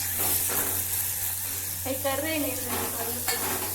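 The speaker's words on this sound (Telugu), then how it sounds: "ఉల్లిపాయలు మళ్ళీ వేయించుతుంది ఫ్రెండ్స్." Onions fry in a pan for dum biryani, giving a steady close sizzle with occasional stirring scrapes, while a voice speaks briefly partway through.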